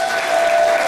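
Dense audience applause fills the hall at a political speech in Levallois, steady and loud across a short burst with a sustained tone running underneath.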